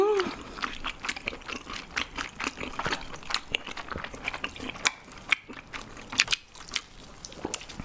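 Someone chews abalone at close range during a seafood mukbang, with a steady run of wet clicks, smacks and bites. Someone also speaks briefly at the start.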